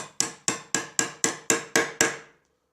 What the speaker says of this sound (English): you use your hammer to force it in